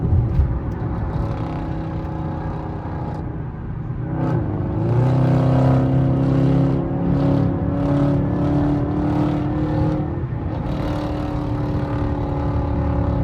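A 2025 Toyota Camry SE AWD cruises along a highway, its steady engine and road hum loud and continuous, with a slight swell midway as it picks up speed, and no talking.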